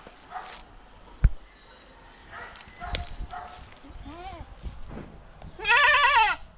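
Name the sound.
goats bleating on a Jamaican homestead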